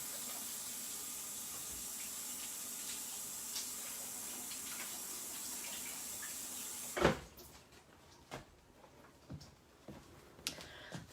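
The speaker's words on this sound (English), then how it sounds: "it's nice to have a faucet where you don't have to turn the handles to get it on" A kitchen faucet runs steadily while washing up during cooking, a continuous hiss of water that cuts off abruptly, followed by scattered clunks and knocks of dishes or cupboards.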